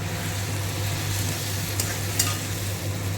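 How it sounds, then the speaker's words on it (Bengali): A ladle works through tomatoes in a hot frying pan for an egg curry, giving a continuous sizzle with soft scraping and a couple of brief clinks, close and steady with a low hum underneath. "হাতা দিয়ে দিয়ে ভালো করে টমেটোগুলোকে আমি ঘেঁটে ঘেঁটে দিচ্ছি"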